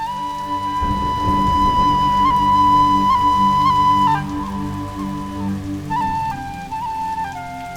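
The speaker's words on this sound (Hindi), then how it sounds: "मैंने कहा था ना कि मुझे पूरा विश्वास है कि बारिश आएगी। लो आ गई।" Rain falls steadily in a Hindi TV drama scene, a broad, even hiss layered beneath sustained musical tones, fairly loud at first and then easing, with no talk.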